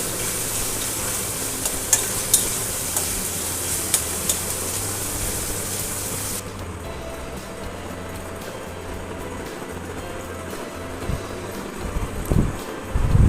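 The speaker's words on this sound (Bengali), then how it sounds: "সামান্য জল দিয়ে ভালো করে মশলাটাকে কষিয়ে নেব" An onion and ginger spice paste fries with a little water, sizzling steadily while being stirred, with louder scraping bursts near the end.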